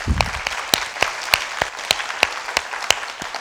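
A small audience at a women's event gives scattered applause, a thin, uneven clapping with distinct sharp individual claps spaced out over a few seconds, fairly close and clear.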